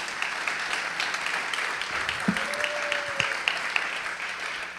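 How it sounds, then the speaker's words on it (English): At an alliance launch event to protect the Salish Sea, an audience claps in a soft, steady wash of applause, fairly distant, with a few sharper claps and a brief tonal sound partway through. "Please give yourself a round of applause."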